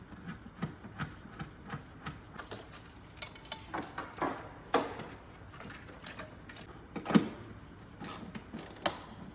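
A small bolt is taken off at the firewall of a 2006 Chevy 2500 HD pickup. Quiet, close ratcheting clicks and light metallic taps come in uneven bursts, and nobody speaks.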